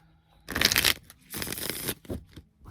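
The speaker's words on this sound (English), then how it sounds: "So here's the Divine Masculine deck I just shuffled." A Divine Masculine tarot deck being shuffled by hand, heard as two close, loud riffling bursts separated by a brief pause, followed by a few lighter card taps.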